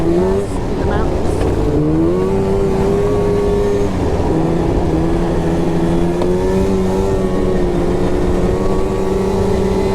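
A 500 snowmobile engine drones and revs on snow in the mountains, a loud, close, sustained motor tone that rises and settles with the throttle, heard alone.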